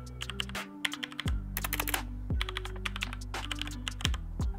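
Keys on a HyperX Alloy FPS Pro compact gaming keyboard are typed on close up, giving crisp, rapid clicky keystrokes in uneven bursts with no talking.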